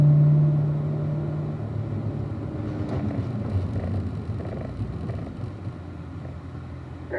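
A Corvette at a performance driving school rolls in at about 35 mph toward the cones and brakes gently to a stop, a steady engine and tire rumble with wind noise, loud at first then settling.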